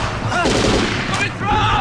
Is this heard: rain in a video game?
no